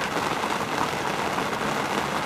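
Steady rain falls close by during a fishing trip for predatory fish, a dense, even hiss of drops with no pauses and no voices.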